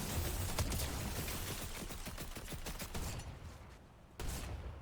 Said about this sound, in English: Some beautiful shooting here.